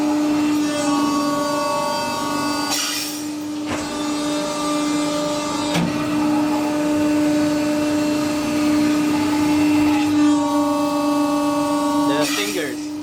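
A Preda 300T 3200mm hydraulic press brake runs with a steady, loud mechanical hum and hydraulic pump drone throughout, with a few brief clunks and shifts in tone near the start and end.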